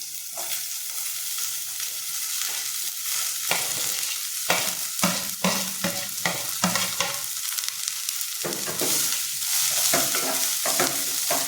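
Cabbage sizzles in a hot pan with turmeric, a steady close frying hiss broken by repeated scraping and stirring strokes.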